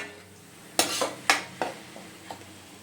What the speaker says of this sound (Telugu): దీన్ని మిక్స్ చేసుకొని మొత్తం పచ్చివాసన పోయే వరకు మళ్ళీ వేయించుకోవాలి